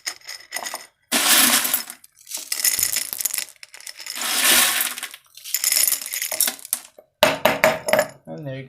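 Leca clay pebbles poured into a mason jar for a plant, several bursts of dense rattling, clinking pellets tumbling against glass, with brief pauses between pours, close and fairly loud.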